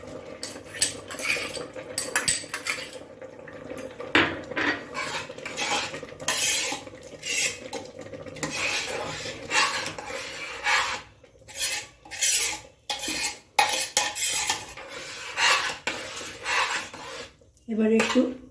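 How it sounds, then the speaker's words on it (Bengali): Khoa kheer stirred into carrot halwa in a pan, with a spoon scraping and clinking against the metal in irregular strokes, close and fairly loud with short pauses and no talking. "খোয়াক্ষীরটা দিয়ে একটু নাড়িয়ে চাড়িয়ে নামিয়ে নেব"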